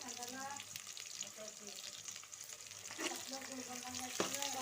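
Onions frying in oil with curry leaves and tamarind, a steady close sizzle broken by a few ladle scrapes and stirs, fairly quiet overall.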